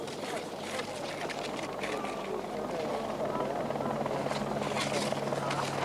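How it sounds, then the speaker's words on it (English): A steady, droning helicopter rotor roar fills the scene continuously at a men's downhill ski race in Val d'Isere, France, with a commentator talking over it. "A helicopter overhead taking Tombo away to hospital."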